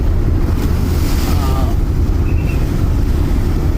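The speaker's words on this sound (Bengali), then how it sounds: "নদীর ঢেউগুলো লঞ্চের সাথে কিভাবে এসে" River waves wash against a crowded passenger launch travelling from Barisal to Dhaka, a loud, constant rushing surge heavily buffeted by wind on the microphone.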